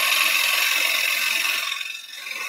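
A gouge cutting into a zebrawood bowl spinning on a wood lathe, a continuous bright shearing hiss that holds steady then softens and dips slightly near the end, close up with no voices.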